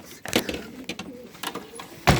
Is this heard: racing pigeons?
yes